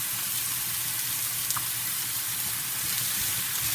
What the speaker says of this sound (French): Je mets les zucchini directement. Nous allons mettre un peu d'ail.